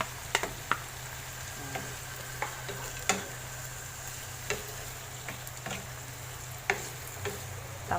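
Tomatoes and other ingredients for ginataang santol cook in a pan, giving a steady sizzle with scattered sharp ticks and utensil taps over a constant low hum, fairly close and with no talking.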